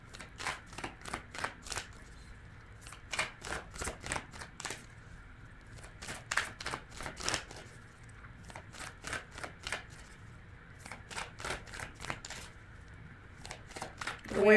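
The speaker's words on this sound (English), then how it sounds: "The way I shuffle, I try to get flippers, cards that jump out of the deck" Tarot cards being shuffled by hand in repeated crisp riffling bursts, close and fairly quiet, with short pauses between rounds of shuffling.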